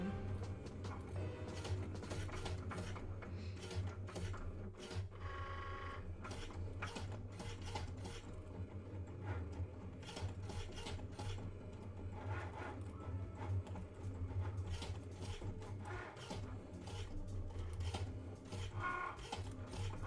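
A Cricut cutting machine works through fabric pieces with a continuous mechanical whir and busy, rapid ticking and clicking, fairly quiet and steady throughout with no talk.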